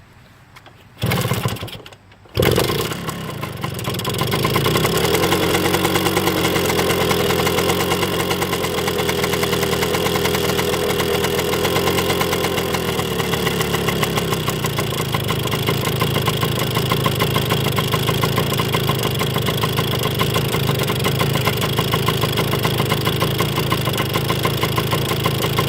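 A Suzuki TS125 motorcycle with freshly worked carburetor sputters to life after a brief start attempt, then settles into a steady, close, buzzing idle that runs on evenly with no talking.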